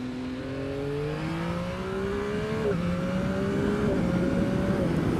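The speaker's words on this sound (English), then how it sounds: "Putting it into first gear like that, and it just gives just enough amount of engine braking to complement the braking" A motorcycle engine held in first gear and engine braking into tight 90-degree corners gives a steady, close droning note that climbs slowly in pitch, dips briefly midway, then holds, with no talking.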